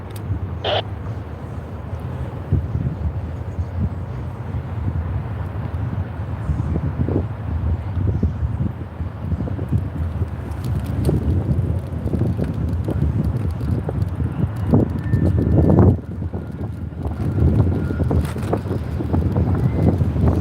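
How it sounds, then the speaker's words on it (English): Steady wind buffets the microphone with a low, rumbling roar throughout an e-bike ride in Las Vegas, with occasional gusts and faint clicks but no voices. "it's gonna be kind of windy"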